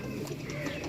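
Soft pigeon cooing, low and throaty, over a faint background hum in a brief moment.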